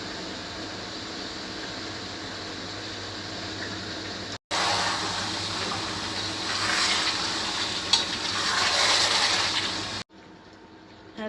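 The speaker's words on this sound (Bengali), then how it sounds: "সব মশলাটা আমি কষায় নিয়েছি, এখন চিকেনগুলো দিয়ে দিই" Chicken pieces are dropped into hot oil with sautéed spices, black cardamom, bay leaf and onion for Old Dhaka shahi morog polao, and the steady sizzle grows louder and brighter once the meat goes in. No one speaks.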